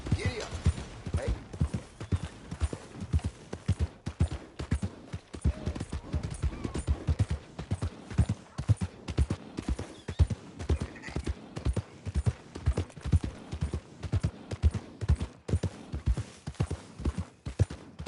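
A horse gallops in Red Dead Redemption 2, its hooves beating a fast, steady, close clip-clop rhythm throughout, with occasional creaks and a faint whinny in the mix.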